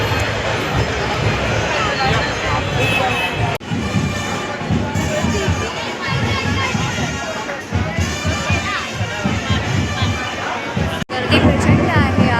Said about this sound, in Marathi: गर्दी प्रचंड आहे आज